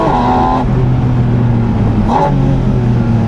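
Full-throttle intake roar from the 4-litre flat-six of a Porsche 718 Spyder RS, loud and close, climbing in pitch, with a brief dip for a gear change before it rises again.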